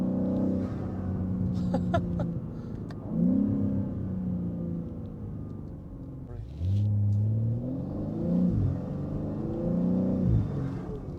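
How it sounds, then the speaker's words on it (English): A 650 HP Manhart MH3 650 BMW M3 Touring drives along with a steady engine rumble that rises and falls through gear changes, with a few brief crackles from the exhaust. "And some little burbles here at the back."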